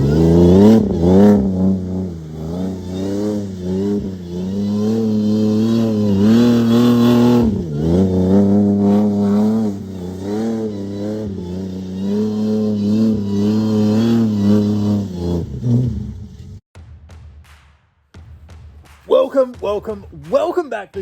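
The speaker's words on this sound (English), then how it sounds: "I'm gonna put the biggest engine in the smallest car that I can register" A V8-swapped Toyota Hilux engine revs loudly and close, rising and falling in repeated throttle blips with a strong throaty roar, then cuts off near the end into brief quieter sounds.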